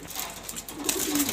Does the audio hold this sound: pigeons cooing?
yes